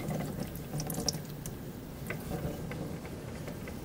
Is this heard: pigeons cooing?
no